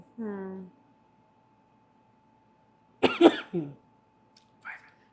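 A harsh cough bursts out, followed by a short throat-clearing sound, with a brief vocal sound beforehand and quiet gaps around them.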